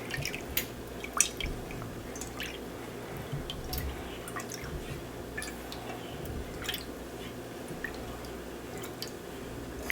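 Fragrance oil is stirred into melted IGI 4630 paraffin wax at about 185 degrees, making faint, irregular clinks, taps and soft liquid swishes over a quiet background.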